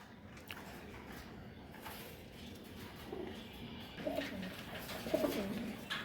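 Pigeons in a loft of Bengali racing birds coo softly in low, throaty bursts, growing slightly louder toward the end over a steady background hum.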